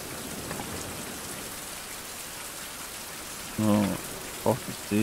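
Steady rain patters and hisses throughout, with a few short bursts of a voice near the end.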